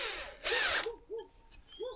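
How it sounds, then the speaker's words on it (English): A power drill bores a 100mm hole in a post for a porch build, giving a short loud whine-and-grind burst after a quieter start, followed by softer mechanical clicks and low rumbles. "make sure you keep the drill in line this way, and also this way."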